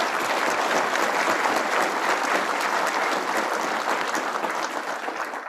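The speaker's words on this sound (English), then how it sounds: "So let's give them a round of applause" An audience at a 2021 graduation ceremony claps steadily for the graduates' families, a dense, loud, sustained round of applause that tapers off slightly toward the end.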